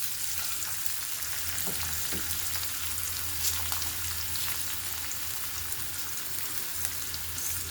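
Cumin seeds, curry leaves, chopped onion and green chillies sizzle in hot oil for street-style batani chaat, a steady, close, dense frying hiss that carries on unbroken with a few faint crackles.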